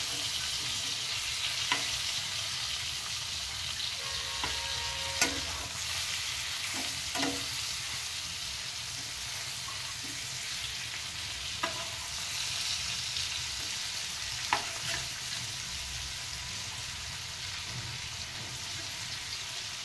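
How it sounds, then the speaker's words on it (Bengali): Boal fish fry in a pan beside a pot of cooking rice, giving a steady, soft, low-level sizzle. Scattered sharp pops and clicks run throughout with no talking. "এখন আমি এই যে ওদিকে ভাত আর মাছ ভাজা হতে থাক"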